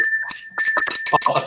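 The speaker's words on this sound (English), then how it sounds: "Oh, a failure bell, yes." Failure bell ringing in a room during a talk, a bright sustained tone with clear metallic ringing that carries through a run of loud, fast strikes.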